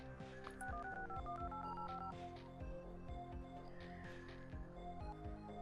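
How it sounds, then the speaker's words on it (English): Dial-up modem telephone dialing tones in the hacking video game Onlink: a rapid run of short touch-tone beeps stepping through different pitches, loud and steady over a low background hum, with no talking. "LAN dial-up accessed. Phone charges occur will be your own."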